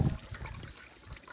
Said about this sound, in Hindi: इधर जी पानी खुला हुआ है, वाटर सप्लाई का, साफ पानी पीने का।